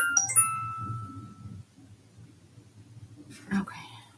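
A mobile phone gives a short melodic ringtone chime of a few bright tones at the start, followed by quiet room sound and a brief soft voice near the end.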